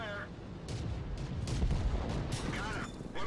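Tank gunfire rings out in World of Tanks during a Churchill III match on the El Halluf desert map: several booming, rumbling shots close together, with a voice talking over them.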